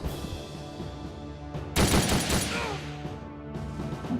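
Burst of gunfire from an attack in the handheld tactical game Ghost Recon: Shadow Wars, a loud rattling volley lasting about a second over steady game music, with no talk.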